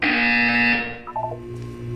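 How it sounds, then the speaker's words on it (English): A loud electronic buzzer from the video game Portal 2 blares for under a second, then cuts off into quieter game tones and hum. "When you hear the buzzer, look up at the ceiling."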